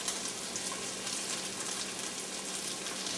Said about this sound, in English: we're going to let that just fry up in there.